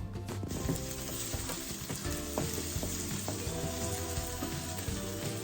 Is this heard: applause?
no